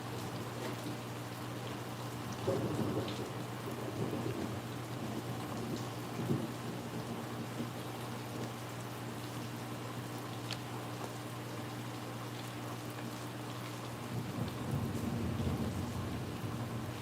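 Steady rain with distant rumbles of thunder rolling in and out over a continuous hiss, low and fairly faint throughout.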